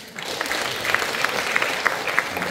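A crowd claps steadily, a dense patter of many hands applauding for a couple of seconds.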